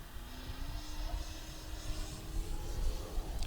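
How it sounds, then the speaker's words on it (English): A Skywing 73-inch Slick 3D RC airplane flies overhead in light wind, its electric motor giving a steady, moderately distant hum over outdoor wind noise. "plane flies straight as an arrow"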